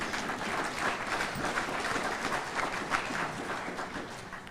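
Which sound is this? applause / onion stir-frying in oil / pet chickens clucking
applause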